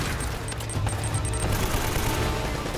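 Rapid bursts of automatic gunfire in the video game Uncharted: Drake's Fortune crackle in quick succession, a dense fusillade of sharp shots over a short stretch without speech.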